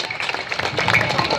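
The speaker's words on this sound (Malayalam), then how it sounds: "നല്ലൊരു കയ്യടിക്കാൻ വേണ്ടി വേറെ." Audience applause at a Malayalam stage show with judges present, a steady wash of clapping throughout, dense and fairly loud, with some voices mixed in.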